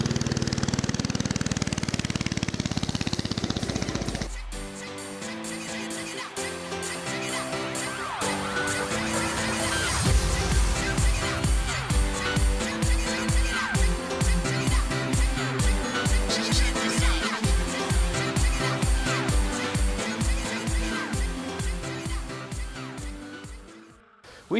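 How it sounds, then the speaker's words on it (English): The small engine of a Bintelli S1 racing go kart catches after a few seconds of noise and settles into a loud, close, steady chattering idle with a rapid regular pulse. "Now you can have your second person start the kart up for you."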